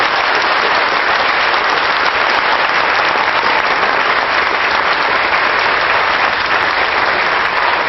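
A church congregation claps in praise, a thick, constant roar of many hands filling the room, loud and unbroken from start to finish with no speech on top.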